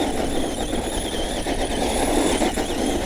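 An Arrma Voltage 2WD RC car drifts on dirt, its electric motor whining and squealing loudly and continuously close by, with rough scrabbling texture from the loose ground.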